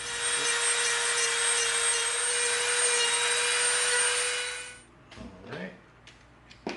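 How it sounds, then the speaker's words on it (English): A Dremel rotary tool grinds and cleans up EVA foam for a prop rifle, giving a loud, steady high-pitched whine for nearly five seconds before cutting off, then faint handling noises follow. "now we're going to come in with our Dremel and clean it up"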